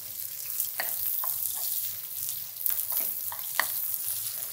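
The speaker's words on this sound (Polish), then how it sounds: "I delikatnie wymieszamy." A spoon stirs mustard into pork with butter sizzling in a pan, with soft scraping strokes over a steady frying hiss, close and fairly quiet.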